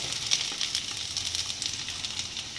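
Onions sizzle and crackle in hot oil in a pan, a steady close hiss with small popping spatters and no voices.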